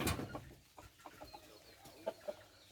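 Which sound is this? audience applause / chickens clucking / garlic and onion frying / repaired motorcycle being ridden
chickens clucking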